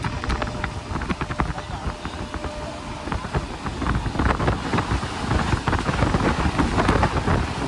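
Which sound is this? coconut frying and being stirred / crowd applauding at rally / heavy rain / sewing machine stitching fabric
heavy rain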